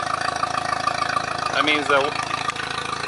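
An outboard engine on a Tracker Pro Team 175 TXW boat runs loud with its muffler out of the water, a steady rough idle drone while someone talks over it briefly.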